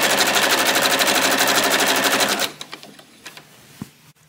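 Sewing machine stitching quilt binding at its default stitch length, a loud rapid mechanical rattle that runs steadily for about two and a half seconds, then stops, leaving a few scattered clicks and handling knocks.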